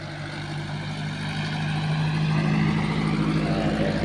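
A car driven by a learner driver idles and then revs with a steady low engine drone that swells slightly, heard nearby in the rain.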